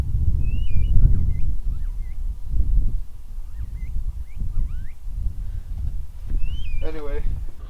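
Wild desert birds give odd, repeated whistling and chirping calls, some rising and falling, scattered across the scene at moderate distance, over low rumbling wind noise and someone talking intermittently.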